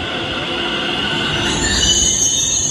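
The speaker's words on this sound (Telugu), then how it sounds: "ఇప్పుడే మన ట్రైన్ అయితే వచ్చిందనమాట, మెట్రో ట్రైన్." Delhi metro train pulling into a station, a steady rolling roar with high metallic wheel squeal rising toward the end.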